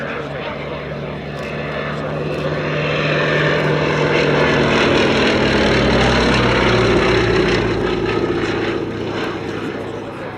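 A Westland Lysander propeller aircraft flies at the Shuttleworth Festival of Flight airshow with a steady droning engine and prop buzz that swells as it passes nearby. A voice commentates over the sound throughout.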